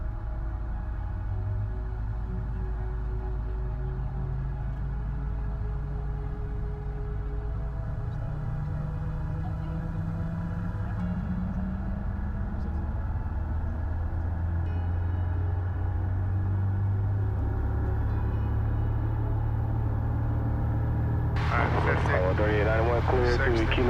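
A small single-engine airplane takes off from a runway, heard from inside the cockpit. The engine drones steady and loud and slowly rises in pitch as power builds. Near the end a brief burst of radio or voice cuts in.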